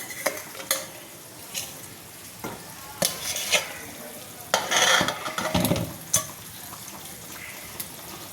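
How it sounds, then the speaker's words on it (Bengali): A banana flower curry gravy, with fritters added, bubbles and sizzles in a pan, punctuated by scattered bursts of stirring and several clinks of utensils against the pot. "ঝোলটা দেখো টকবক টকবক করে ফুটছে"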